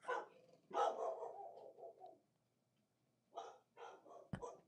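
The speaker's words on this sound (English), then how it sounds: "I don't know why my dog is going crazy outside." A dog barking outside, faint and distant, in a few bursts of repeated barks with a pause between, plus a sharp knock near the end.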